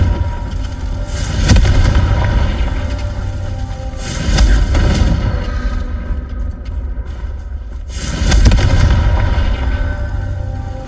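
Confringo blasting spell going off in Hogwarts Legacy, three loud booming explosions a few seconds apart, each with a deep rumbling tail, no talk.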